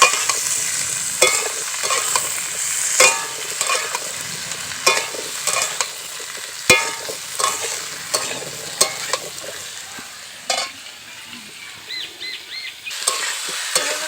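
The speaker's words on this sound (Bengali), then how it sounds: "সবজিগুলোকে পেঁয়াজের সঙ্গে একসঙ্গে একটু ভালো করে ভেজে নিতে হবে।" Pumpkin and potato pieces frying with onion in a village kitchen pan, giving a steady close sizzle broken by repeated scraping stirs, with no talking.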